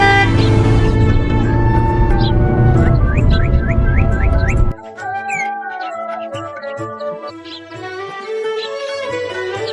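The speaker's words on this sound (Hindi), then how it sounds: "व्यापारी महेश को अपनी गाड़ी में बैठा लेता है।" A car drives along with its horn honking in repeated short toots, loud and close at first, then quieter passing traffic with scattered further honks and faint birds.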